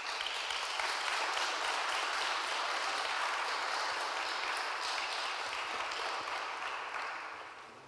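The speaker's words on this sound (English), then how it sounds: "let's give our speakers a well-deserved round of applause" A conference audience applauds the speakers after a panel on artificial intelligence, a sustained wash of clapping that holds evenly before tapering slightly at the end.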